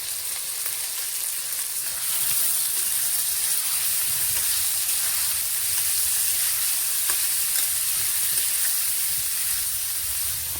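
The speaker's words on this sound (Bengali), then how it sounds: "এখন ফুলকপি দিয়ে একটু কষাবো" Boiled cauliflower being stir-fried in spice paste, a loud steady hissing sizzle that swells slightly as it is stirred, close up and without talk.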